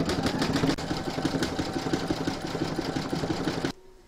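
A home embroidery machine satin-stitches the border around the belly of a large reindeer applique held in a hoop, a fast, steady mechanical chatter that runs evenly and then cuts off abruptly near the end.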